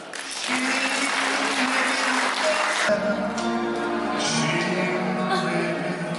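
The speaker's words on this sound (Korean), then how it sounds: "우리 신부가 입장할 때 레빈 여러분께서 따스한 축복의 박수로 환영해 주시면 감사하겠습니다." Wedding guests at a convention hall applaud the bride's entrance with steady, sustained clapping, and music swells in halfway through.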